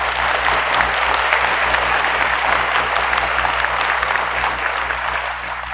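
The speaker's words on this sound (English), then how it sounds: "You clap whenever I give you a good quotation" A 1964 lecture audience claps for a sermon on patriotism: continuous, loud, dense applause sustained for several seconds, with a low steady hum underneath and no speech.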